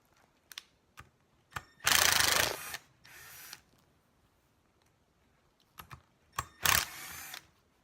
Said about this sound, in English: I'm gonna take off these two screws right here.